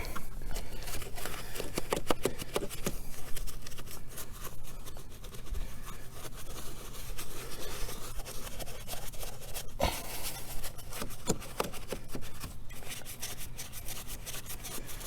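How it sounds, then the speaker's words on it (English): A soapy brush scrubs around the engine bay of an Audi S4 with rapid, close, bristly rubbing strokes and occasional knocks and clicks, continuing steadily without speech. "So now I'm just going to use a soapy brush, get in here, agitate it."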